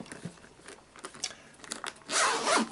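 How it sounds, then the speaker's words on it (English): A carrying case's zipper is pulled open in short, rasping tugs, ending in one longer, louder zip close by. "you can see the zipper is easy to open"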